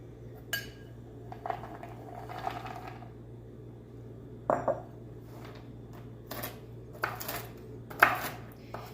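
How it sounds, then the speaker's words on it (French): A knife chops walnuts on a board, giving a handful of sharp, scattered knocks spread irregularly over a steady low kitchen hum, with no voices. "Et maintenant, hachez aussi le noix."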